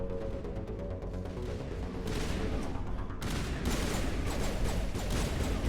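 Dense gunfire in Mass Effect, rapid overlapping shots and bursts crackling continuously and growing louder partway through, with no pauses.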